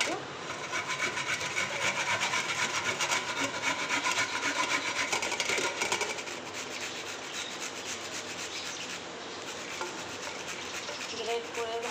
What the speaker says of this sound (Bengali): ফুলকপি, এটাকে গ্রেট করে নেব।